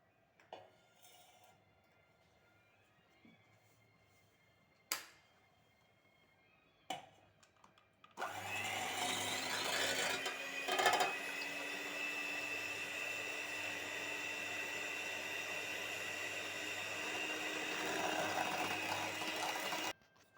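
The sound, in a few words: electric mixer beating egg whites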